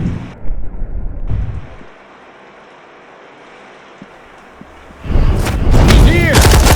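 Gunfire in the video game Dark: loud bursts of shots and impacts open the clip, give way to a quiet stretch, then a heavy barrage of fire returns near and loud at the end.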